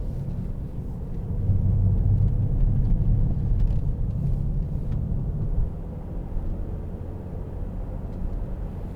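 A 2008 BMW 320i M Sport two-door with a 2.0 engine drives on the road, its low engine and road rumble steady from inside the cabin and swelling briefly as it accelerates before settling back.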